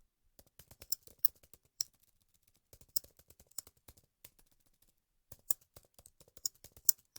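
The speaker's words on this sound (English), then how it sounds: "my typing is terrible today" Typing on a computer keyboard, quick irregular clicks in bursts with brief pauses, close and fairly soft, no voices.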